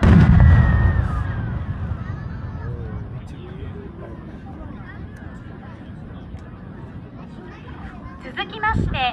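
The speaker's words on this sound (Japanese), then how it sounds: "日本伝統の新入り花火、芯を二重にした花火をご覧ください。" A loud Japanese traditional double-core chrysanthemum firework bursts with a boom at the start, then crackling and fizzing trail off, with another pop near the end and festival crowd murmur beneath.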